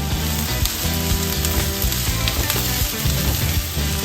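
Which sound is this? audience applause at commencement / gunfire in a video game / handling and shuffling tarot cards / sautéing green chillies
sautéing green chillies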